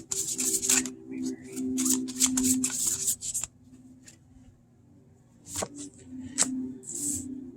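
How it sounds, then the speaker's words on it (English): A deck of tarot cards is shuffled by hand, making soft riffling and sliding bursts with brief pauses between them, close and fairly quiet. "picked it up off the floor, shuffled it back in repeatedly"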